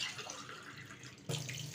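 Water is poured into a bowl to clean silver jewelry, making a faint, soft trickle and splash for a moment, close and quiet, with no talking.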